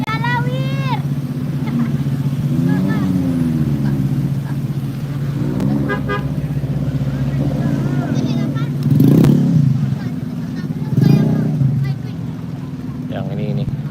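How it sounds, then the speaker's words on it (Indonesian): A vehicle pushes across a flooded road at Jinang Tarusan, Pessel. A steady engine drone and water wash run throughout, with horn toots and surging splashes rising in the middle. Voices talk over the scene. "Ada kendaraan yang coba melintas tapi kayaknya cukup beresiko juga sana"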